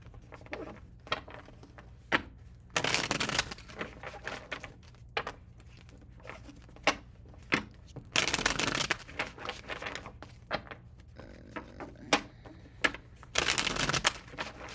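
Tarot cards being shuffled up close in three bursts of rapid riffling, separated by scattered taps and soft handling sounds.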